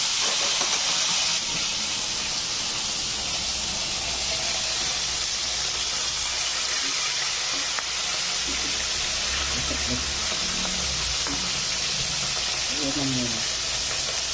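Tilapia frying in hot oil gives a steady, loud broadband hiss and sizzle throughout, with faint low clatter and movement underneath near the end.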